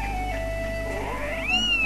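A cat in The Legend of Zelda: Skyward Sword gives a single drawn-out meow that rises and bends in pitch near the end, heard clearly over a steady game background hum.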